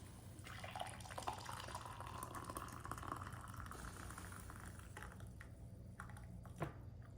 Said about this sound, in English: There's the carafe. Here's our cup here, and let's see how it pours.